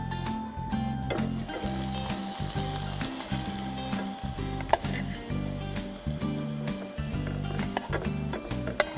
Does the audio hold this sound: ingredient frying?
yes